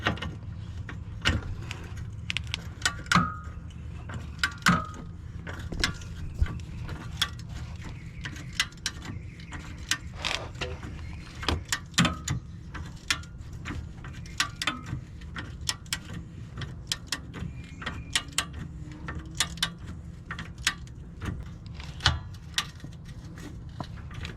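Rapid ratchet and torque-wrench clicks in irregular bursts while control arm bolts are tightened to about 103 foot-pounds on a 2002 Infiniti I35, sharp metallic ticks over a steady low background hum.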